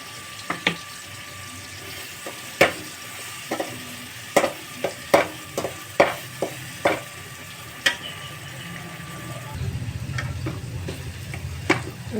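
Tomato and ground masala powder frying in a pan for fish curry, a spoon tapping and scraping the pan in irregular knocks over a faint sizzle, then a louder hiss and bubbling toward the end.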